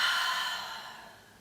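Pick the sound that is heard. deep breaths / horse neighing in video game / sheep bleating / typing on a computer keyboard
deep breaths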